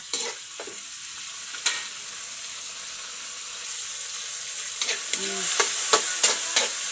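Pork caldereta with tomatoes cooks in a pan with a soft steady sizzle, broken by several sharp spatters and scraping stirs that grow more frequent near the end.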